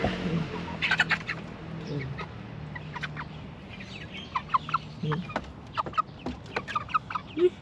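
Backyard chickens clucking nearby in short, irregular bursts over a faint low background, with soft bird calls scattered throughout.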